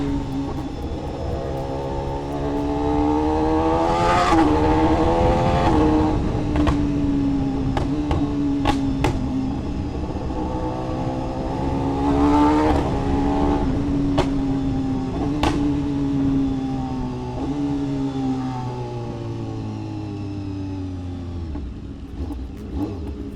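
A BMW S1000RR sport motorcycle ridden through weekday evening rush-hour traffic, its engine revving up and down through repeated gear changes, loud and close, with passing vehicles around it.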